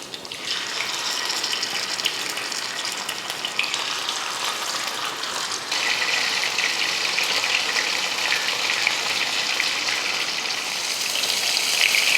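Sankara fish frying in hot oil in a home kitchen gives a steady, bright sizzling hiss that swells slightly partway through. It is close and continuous, with no talking.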